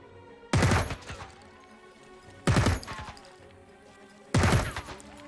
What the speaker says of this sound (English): Wow, that was terrible shooting.